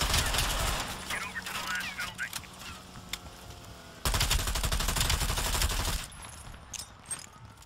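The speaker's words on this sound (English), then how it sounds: "Okay, so that shooting is woods." Rapid gunfire from a character's weapon in Call of Duty: Black Ops Cold War, with bursts of automatic shots near and far that swell and fade over ambient battle noise, and someone speaking intermittently.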